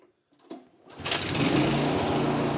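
A Honda snowblower engine is started with a short pull while choked, giving a few faint rattling tugs before catching and settling into a loud, steady, buzzing idle close by.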